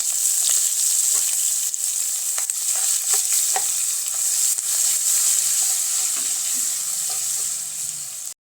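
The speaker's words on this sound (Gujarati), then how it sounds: "જીરું, આ રાઈ જીરું સરસ એવું તતરી જાય તો તેમાં આપણે વઘાણી ઉમેરી દઈશું. તેની સાથે આ લીલી ડુંગળી," Chopped green onion sizzles steadily in hot oil tempered with cumin and mustard seeds, a loud, continuous frying hiss close up, with occasional light stirring clicks.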